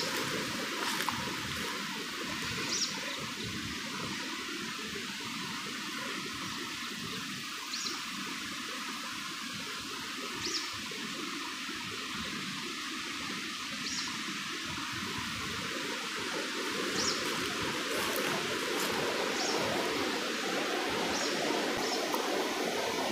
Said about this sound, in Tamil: இப்போ ஆறில் தண்ணி போகிற சவுண்டு உங்களுக்கு நல்லா கிளியராகவே கேட்குன்னு